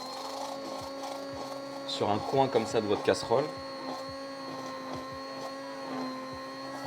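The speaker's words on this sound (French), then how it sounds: "Vous allez mixer comme ça pour faire de la mousse" A hand blender whirs briefly in a saucepan, frothing a foie gras velouté into foam: a short, loud, buzzing burst in the middle, with a person talking before and after.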